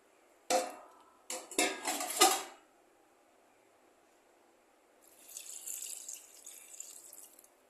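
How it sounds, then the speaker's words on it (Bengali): Water from a meat marinade is poured into a pot of chicken and lai greens, first as a few sharp splashes and sloshes, then after a pause as a softer, steady trickle, all fairly faint with no voices. "আর এখানে আমি এই যে মাংসের মাখাটা গুলে রাখা জলটা আমি এখান দিয়ে দিয়ে দেবো"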